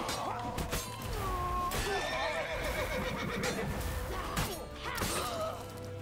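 A horse neighs and whinnies repeatedly amid thuds, hoofbeats and crashing game sounds in The Witcher 3: The Wild Hunt, loud and close.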